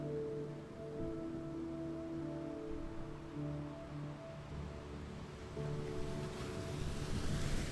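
Ocean waves wash steadily onto a beach in a calm meditation soundscape, a continuous soft surf with a low tonal drone underneath, building slightly toward the end.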